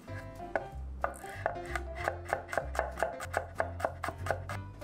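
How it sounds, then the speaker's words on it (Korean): A kitchen knife mincing a garlic clove on a cutting board, a quick, even run of crisp chops close by and moderately loud, with no voices. "마늘 한 알은 다져서 준비하세요."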